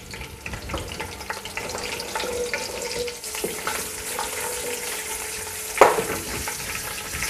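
Whole cumin seeds and bay leaves fry in hot oil, giving a steady, close crackling sizzle throughout, with one sharper pop near the end and no talking.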